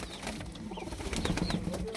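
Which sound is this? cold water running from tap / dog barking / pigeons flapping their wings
pigeons flapping their wings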